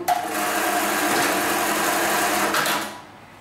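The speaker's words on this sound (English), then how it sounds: "we'll, go ahead and advance it to the next position and we can go ahead and sew a little bit more" A sewing machine runs in one continuous burst for about three seconds, stitching a spliced rope leash with a steady, rapid mechanical whir.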